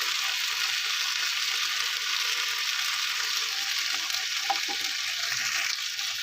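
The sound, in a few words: stirring fried rohu fish with turmeric and chili powder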